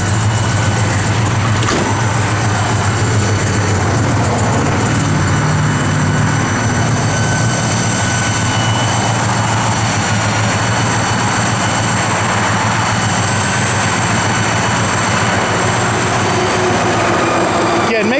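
A 1967 Chevrolet Chevelle SS engine runs steadily throughout, a continuous loud drone with no clear breaks, heard alone without talk.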